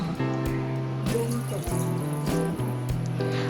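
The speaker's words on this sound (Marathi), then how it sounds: "आपण इथे दोन कप इतकं पाणी घालणार आहोत" Two cups of water pouring steadily into a pressure cooker pot of dal, a continuous gurgling stream with shifting pitch as it fills; no speech.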